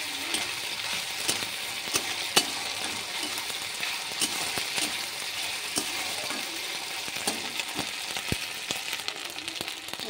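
Ginger garlic paste sizzles steadily in hot oil in a pan, a close, continuous crackling hiss with scattered sharper pops and occasional stirring scrapes.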